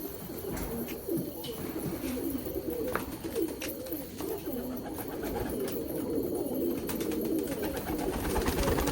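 Pet pigeons being paired up coo repeatedly nearby, in soft overlapping throaty calls that run steadily over low background noise.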